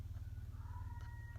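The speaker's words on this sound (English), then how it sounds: "hear Spot meow" A pet cat named Spot gives a faint, drawn-out trilling meow over a steady low rumble, with no one speaking.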